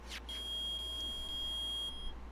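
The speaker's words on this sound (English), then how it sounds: "Nick, it's beeping. The metal detector found something." Metal detector in the video game Phoenix Wright: Ace Attorney, a single steady high electronic beep held for nearly two seconds over a low hum, with no voices.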